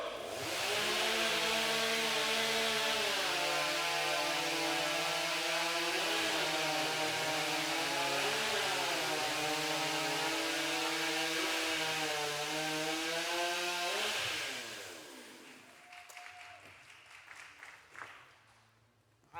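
A STIHL chainsaw rips through timber in a stock saw race at the Canadian timbersports championship, loud and near, holding a strained, wavering buzz that bogs and recovers under load, then cuts off, leaving brief clatter.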